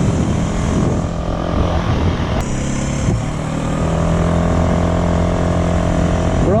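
A Honda Metro scooter fitted with an NCY CDI and a Polini variator, running on old tires, accelerates up a hill. Its engine gives a loud, close, steady drone that climbs gradually in pitch, with no talking.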